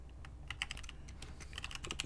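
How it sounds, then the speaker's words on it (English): Fingers tap out quick, irregular bursts of clicks on a computer keyboard, close and fairly quiet over a low background hum. "he's typing"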